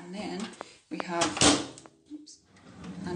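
A deep kitchen drawer in a student flat slides open or shut with a short rumbling glide and a soft knock, close by, while a person talks over it.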